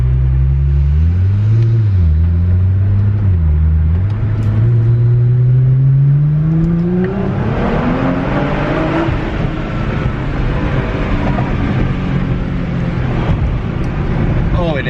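A Nissan R35 GT-R fitted with an aftermarket exhaust accelerates from a stop, its loud, throaty note climbing steadily through the revs and holding a strong roar close by.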